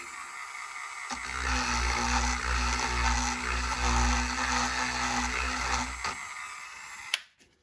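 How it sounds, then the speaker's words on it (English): A Proxxon MF70 mini mill drills a hole for a gear, its motor spinning up to a steady high whine with grinding for about five seconds, then spinning down and ending with a small click, close by. "let's do the hole for the gear"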